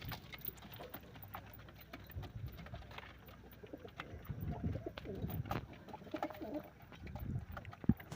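Soft, low cooing from several pigeons drinking water repeats on and off against a faint rustling, patter-like background.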